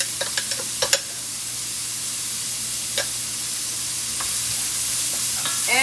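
Mashed garlic frying in a pan with bitter melon: a steady broadband sizzle runs throughout, rising toward the end, with a few sharp utensil clicks and scrapes early on and scattered stirring taps.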